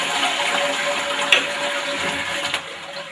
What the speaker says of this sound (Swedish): Då lyfter jag på handtaget så att det kan spola ner pappret.